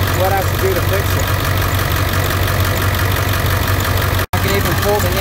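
A Navistar T444E diesel engine with 11,500 hours idles in a truck, a loud steady low rumble with a knocking pulse, while someone talks over it and a brief dropout cuts in near the end.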